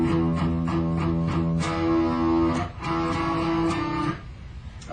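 Electric guitar plays a riff, a repeated chugging palm-muted figure with sustained chord stabs, close and steady, alone without talk.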